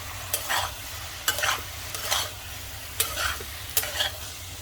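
Spices stirred into methi aloo frying in a pan: five or six rhythmic scraping strokes of a spatula over a steady low sizzle, close and distinct, no speech.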